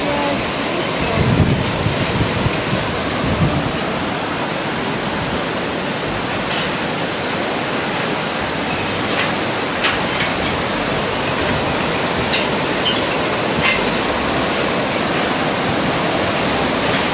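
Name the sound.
rushing white water river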